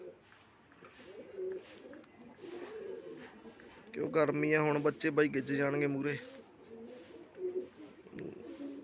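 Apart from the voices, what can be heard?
pigeons cooing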